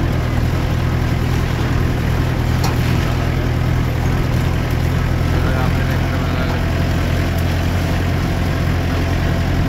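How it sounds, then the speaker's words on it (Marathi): An old tractor engine idles at a sugarcane-cutting field site, a loud, steady low rumble that runs unbroken throughout, with voices faintly mixed into the engine noise. "हे आहे आपलं ट्रॅक्टर."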